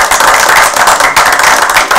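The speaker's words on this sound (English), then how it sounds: "Give them a well-deserved round of applause." Audience applause at a board meeting presentations and resolutions ceremony, a dense steady wash of many hands clapping, loud and continuous throughout.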